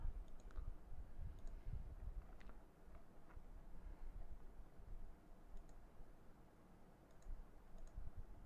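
Soft, sparse clicks from a computer mouse, a handful of faint single taps spaced irregularly over a low background hum, close but quiet.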